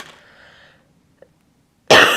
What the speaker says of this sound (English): I had to cough a little more there.